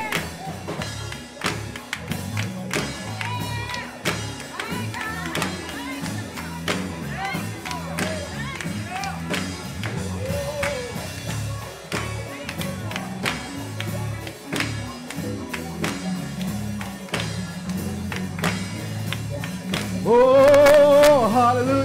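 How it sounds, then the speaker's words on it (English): Congregation at a church sunrise service claps hands steadily along with loud gospel singing and music, the rhythmic claps blended under voices throughout, with louder swelling singing near the end. "come on, clap your hands all around"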